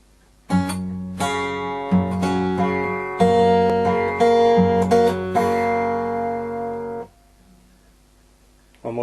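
Guitar picks out the hymn Nearer My God to Thee as a slow, clear melody of single notes ringing over sustained tones, played close and alone, then stopping before a final note begins.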